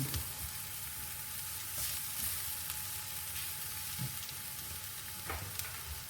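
Garlic fries in a pan for an aubergine and lentil ragu, a steady close sizzle with occasional soft stirring scrapes and no talking.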